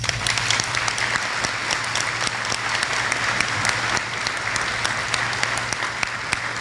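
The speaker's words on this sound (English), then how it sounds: "would you please join me in giving our sheriff a brief round of applause?" Steady, sustained applause from a large crowd at an awards dinner, dense clapping continuing evenly throughout with no speech over it.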